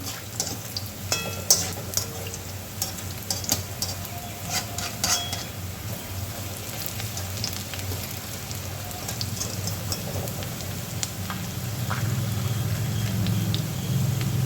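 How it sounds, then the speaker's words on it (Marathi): Onion bhaji, crisp Maharashtrian kanda bhaji, frying in hot oil as the fritters are turned, giving a steady low bubbling crackle with light clinks of a utensil against the pan, no talking. "याला छान असं सुलट करून तळून घ्यायचे आहे"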